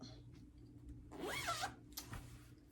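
A zipper on a small fabric storage bag drawn closed in one continuous rasping pull, then a shorter second tug, close and clear in a quiet room.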